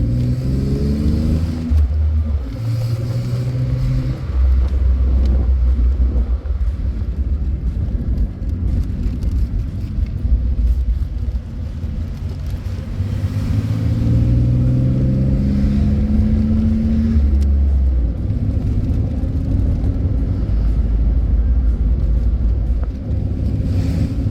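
A 1994 Chevrolet Cavalier Z24 convertible's 3.1-liter V6 engine and exhaust drone rumbles continuously, throaty, with pitch rising and falling as the car accelerates and cruises.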